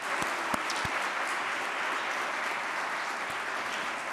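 An audience at a national civics bee championship gives a sustained round of applause, many hands clapping in a dense, even wash throughout, with a few sharper individual claps near the start.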